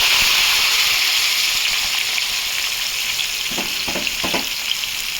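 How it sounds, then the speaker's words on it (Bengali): Loud, steady hissing of cauliflower and potato frying in hot oil, with a few stirring scrapes toward the end. "ফুলকপিটা আমার ভাজা হয়ে গেছে"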